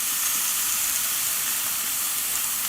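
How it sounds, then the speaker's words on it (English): Saddle of wild boar sears on a barbecue grill heated to about 220 degrees, giving a steady, loud, high hiss of sizzling meat with no break. "we're now going to put it on for about 45 seconds each side, just to give it a quick sear."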